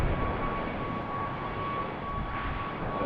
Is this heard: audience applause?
no